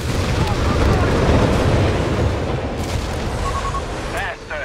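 Artillery barrage explosions in the World War II strategy game Company of Heroes 3 roll in as a loud, continuous rumble of overlapping booms, with voices and shouting partly mixed in.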